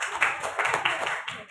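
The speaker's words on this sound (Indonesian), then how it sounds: "Tepuk tangan Bapak Ibu." An audience claps hands in a short burst of quick, uneven claps, moderately close and fading near the end.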